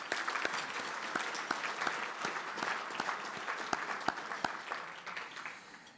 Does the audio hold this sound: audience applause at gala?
yes